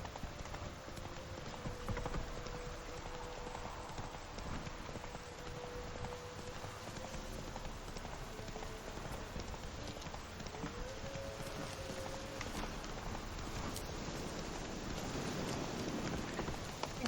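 Geralt's horse galloping in The Witcher video game: a steady, rhythmic clatter of hoofbeats over a constant ambient bed, fairly quiet and unbroken.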